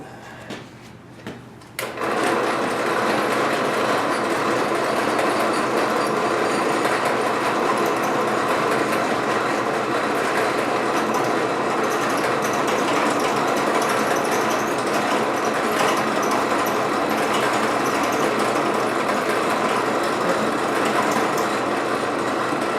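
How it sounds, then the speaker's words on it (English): A steady, loud drill grinds continuously through a metal rod for about twenty seconds, boring a cotter pin hole, starting after a brief quiet moment and holding an even, high-pitched whine. "we're going to drill a hole in it for a cotter pin"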